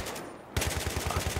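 Automatic AK-74 rifle fire in a Battlefield 3 campaign battle, starting abruptly and continuing as a rapid, steady burst of evenly spaced shots, close and loud.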